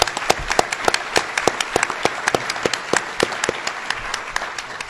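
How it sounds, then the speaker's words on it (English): A small audience applauds Senator Maziarz at a Governor Cuomo announcement, sparse individual claps ringing out close and distinct in an irregular rhythm. "Let's give him a round of applause for his good work."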